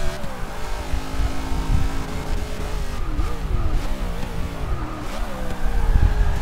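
A NASCAR stock car engine roars continuously in Forza 6 at Daytona, its pitch sweeping up and down through gear changes with brief tire squeals, loud and close throughout.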